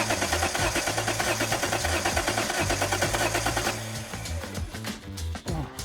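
A Nissan R31 Skyline engine turns over on its starter, fuel not yet reaching it: a rapid, rhythmic cranking churn, loud and steady for several seconds before the pulses loosen and tail off, with no talking.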